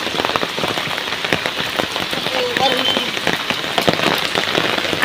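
Steady rain patters on an umbrella overhead outdoors, a dense close hiss of drops with occasional louder taps, while a voice talks intermittently.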